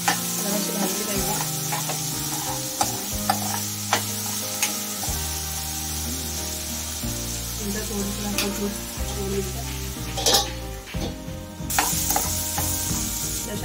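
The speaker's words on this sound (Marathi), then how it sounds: "नंतर मिरची टाकू। तेलामध्ये जराशी भाजली पाहिजे।" Green chillies sizzle and crackle steadily in hot oil for sabudana khichdi, a constant close frying hiss with occasional stirring clicks, while a voice talks over it and soft background music plays.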